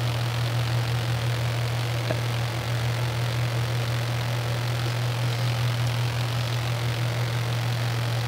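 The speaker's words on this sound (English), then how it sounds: "Oh, engine noise?" A small aircraft engine drones steadily and continuously during a flight from Jackson Hole toward West Yellowstone, a constant low hum with broadband roar and no breaks.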